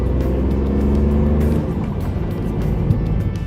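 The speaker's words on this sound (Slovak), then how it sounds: "zaliečavý zvukový sprievod trojvalca vie ešte vždy potešiť" Steady low engine drone of a Toyota Yaris with a one-litre three-cylinder petrol engine, heard from inside while driving, a continuous mid-loud rumble with a slight change in tone partway through and no talk.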